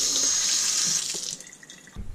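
A kitchen or bathroom tap runs water in a steady, close hiss for about a second, then tapers off and falls quiet, ending with a short low thump.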